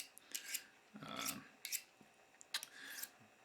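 A small pocket knife drawn across an old Boy Scout sharpener, giving a handful of separate short rasping strokes with brief pauses between them, close by and fairly quiet, with no talking.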